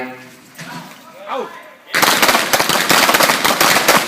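At a self-defense shooting practice, someone talks briefly, then loud, rapid gunfire erupts close by in a dense, continuous volley that fills the rest of the moment.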